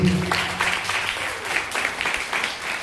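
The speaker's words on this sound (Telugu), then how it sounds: "చేతులంటే చప్పట్లు కొట్టండి" A church congregation at a Sunday service claps along in brief uneven bursts, moderately loud, with a voice briefly heard at the start.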